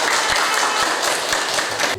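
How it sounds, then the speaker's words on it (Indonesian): A classroom of students breaks into applause during a social studies lesson, a thick, continuous wash of clapping for about two seconds that cuts off abruptly at the end. "Tepuk tangan buat kita semua"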